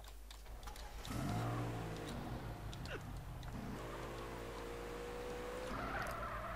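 A car engine revs with rising and falling tones as it drives to run someone over in SA-MP, the San Andreas multiplayer game, rumbling continuously under scattered clicks.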